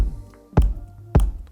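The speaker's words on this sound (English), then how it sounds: "Now, our bass drum sounds like this." A layered, pitch-enveloped bass drum run through a saturator in Ableton Live 12, two punchy distorted kicks about half a second apart over a low sustained tone, close and dry.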